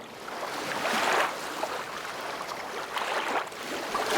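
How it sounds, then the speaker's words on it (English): Gentle waves wash ashore while a boat is paddled in, soft swishing surges rising and falling twice at close range with no voices. "Pirate Blue could hear someone paddling ashore"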